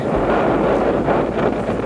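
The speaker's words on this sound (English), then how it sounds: "It's a little windy out here today." Continuous wind buffets the microphone at Old Woman Bay on Lake Superior with a dense, rumbling roar, loud and unbroken throughout.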